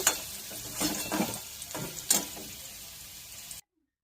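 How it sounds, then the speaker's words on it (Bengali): Soft sizzling of vegetables lightly frying in a pan, with a few stirring scrapes and clatters, moderately close, ending abruptly in silence. "আমার সব সবজিগুলো হালকা ভাজা হয়ে গেছে"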